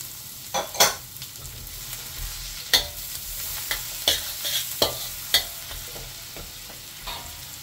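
Garlic and onion sautéing in a pan for beef caldereta, a soft continuous sizzle broken by repeated sharp spoon scrapes and clanks against the pan, close and without talk.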